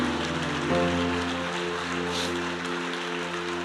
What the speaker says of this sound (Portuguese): Dá um aplauso ao Senhor Jesus aí.